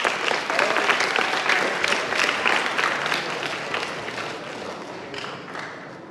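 Sustained audience applause, a dense wash of many hands clapping, steady and then slowly fading.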